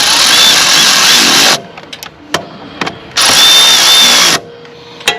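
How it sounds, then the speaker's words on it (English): Cordless ratchet tightening down bolts on the hydro belt idler pulley of a 52-inch Wright Stander mower, two loud whirring bursts of about one and a half seconds each, separated by clicks and taps of the tool. "I can start tightening down the bolts. Now, I start out with my ratchet, or the cordless ratchet"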